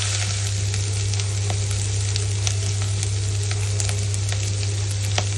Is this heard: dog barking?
no